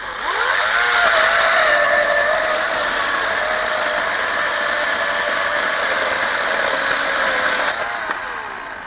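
A ProCraft PCA40/2 cordless chainsaw whirs steadily through wood for several seconds, a loud, even motor drone that winds down at the end.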